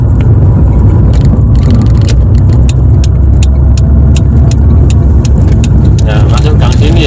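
A car speeding along a street, its engine hum loud and steady under continuous close talk from inside the cabin, with faint ticking clicks throughout.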